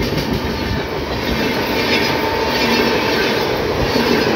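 Kolkata–Amritsar Akal Takht Superfast Express, train 12317, rolls past as a loud, steady rumble of railcars with continuous wheel clatter and faint squeal, close by and without speech throughout.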